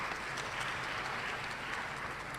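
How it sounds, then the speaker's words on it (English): Audience applause after a talk on autistic burnout, a steady, even wash of many hands clapping, moderately distant and without interruption. "I'm happy you're clapping for me"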